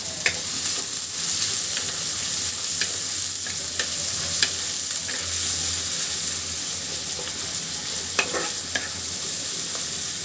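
Chopped onions and two bay leaves frying in hot oil with potatoes: a dense, steady sizzle with scraping stirs and sharp spatter clicks throughout, close and continuous.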